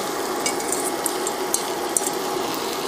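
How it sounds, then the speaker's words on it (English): Brussels sprouts sizzle and fry in a hot pan with a steady crackling hiss, punctuated by a few light clicks and taps of a utensil against the pan. "we're going to add our Brussels sprouts in"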